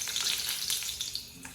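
Donuts deep-frying in oil that is too hot, giving a loud, steady, crackling sizzle with bright spattering pops throughout, close up and without any talking.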